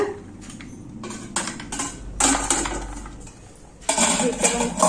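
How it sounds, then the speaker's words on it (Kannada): A metal idli stand clinks and clatters as it is set down into a pressure cooker, several bright metallic knocks and scrapes in short bursts, close and fairly loud. "ಈಗ ಇಡ್ಲಿಗೆ ಇಡೋಣಂತೆ. ಸ್ಟ್ಯಾಂಡ್ ಇಡ್ತೀನಿ ಈಗ."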